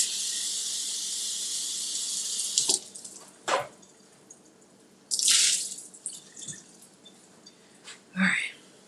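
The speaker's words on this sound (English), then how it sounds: "I'm gonna rinse these off." Berries rinsed under a running kitchen sink tap: a steady broadband water hiss for nearly three seconds, then intermittent shorter gushes and splashes as the flow is turned on and off, close and fairly loud.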